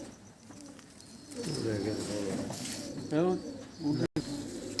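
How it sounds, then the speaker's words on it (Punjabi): A pigeon's soft, rolling coos sound close by, with a few chirps and some background noise. "ਇਹ ਕਿਹੜਾ ਕਬੂਤਰ ਆ"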